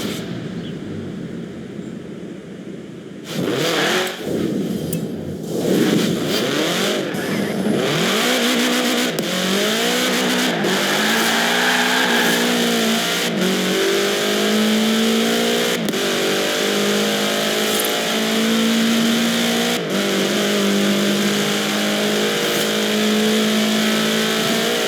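A 1966 Volkswagen Beetle fitted with a 2.5-liter F4 turbo engine in Forza Horizon 4 roars up through the gears, its revs climbing and dropping with each shift in a loud, sustained run with sharp gear changes.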